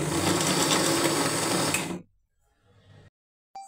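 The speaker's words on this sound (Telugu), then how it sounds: "వీటన్నింటిని మిక్సీ చేసుకుందాం." A mixer grinder blends peanuts, ragi flour and jaggery with a loud, steady motorized whir for about two seconds, then cuts off abruptly into faint rattling and near silence.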